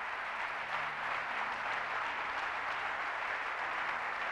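A church congregation applauding, dense steady clapping from many hands that holds evenly for several seconds, moderately loud and continuous.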